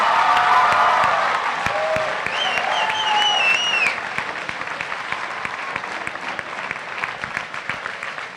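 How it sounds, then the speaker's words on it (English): Audience applause with some cheering at a high school letter-of-intent signing day, loudest at first and then settling into steady clapping with a few whoops, and a brief voice rising over it. "Can we give him a huge round of applause?"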